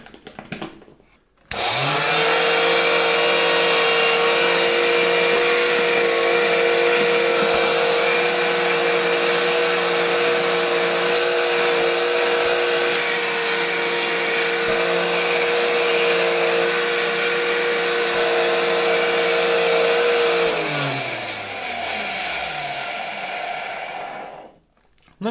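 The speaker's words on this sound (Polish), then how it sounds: "Teraz pora na sprawdzenie jego działania." Old 1963 Gamma II vacuum cleaner switched on, a steady loud motor whine and airflow roar holding for about twenty seconds before winding down as it is turned off.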